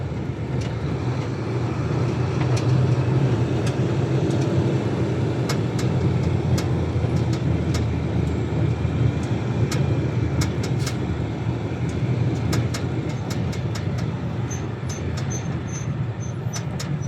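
Slow-moving road traffic with cars and buses, a steady close engine rumble and road drone lasting throughout, dotted with scattered faint clicks and knocks.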